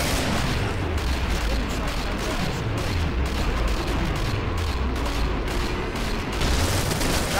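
Grenade blasts and gunfire in the video game Killing Floor, a dense, continuous roar of booming explosions and shooting with no quiet gaps.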